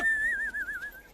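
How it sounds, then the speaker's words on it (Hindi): A person whistles a single wavering, trilling tone for about a second, close and clear over a quiet background. "बिना परमिशन के सीटी बजा रहा है ना?"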